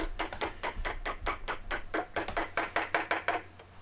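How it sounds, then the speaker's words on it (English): A hammer strikes a coach bolt for a DIY mobile BBQ cart, about sixteen quick, evenly spaced taps close up over a low steady hum. "using my trusty hammer, I could give it a few good whacks so it was into position"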